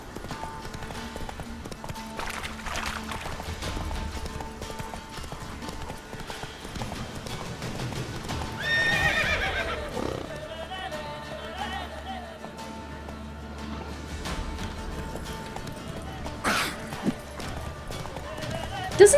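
Steady clip-clop of horse hooves plays throughout with a brief whinny midway, under talk and a layered soundtrack from the video game The Witcher 3.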